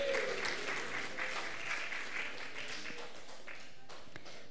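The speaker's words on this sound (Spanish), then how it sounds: "Palmas para Cristo." A congregation at a church youth service clapping together, a dense patter of many hands filling the room, moderately near, fading slightly toward the end.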